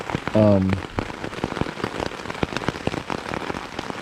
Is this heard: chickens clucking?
no